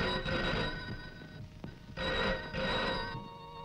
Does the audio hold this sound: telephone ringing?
yes